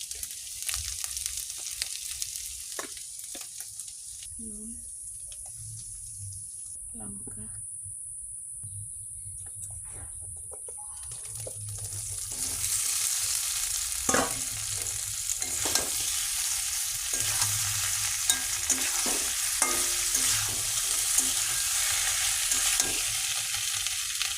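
Cumin, dry red chilli, ginger paste and turmeric tempering in hot oil for a home-cooked vegetarian meal. A soft sizzle starts quietly with a few utensil taps, then swells into a steadier, louder fry for the second half.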